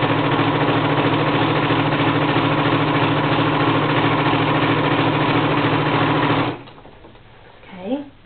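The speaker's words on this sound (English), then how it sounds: "So I've got my machine set, and like I said, I'm going to sew." A sewing machine runs a long steady stitch along a gathering seam, loud and close with an even mechanical drone, then stops abruptly, leaving faint rustling near the end.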